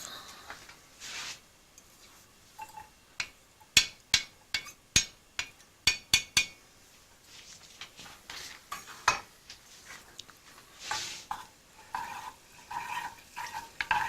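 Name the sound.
garlic frying in a pan, stirred with a wooden spoon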